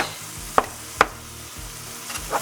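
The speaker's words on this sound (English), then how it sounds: "Now I'm going to cook all of this. I'm just going to break up my meat a little bit first." Ground beef for Filipino beef empanadas is broken up in a frying pan with a quiet, steady sizzle, punctuated by two or three sharp utensil scrapes against the pan, close by and without speech.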